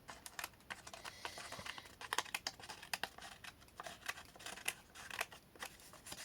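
Scissors cut paper for a handmade Christmas card in a series of close, crisp snips. The snips come in quick irregular bursts with faint paper rustling between them, and no one speaks.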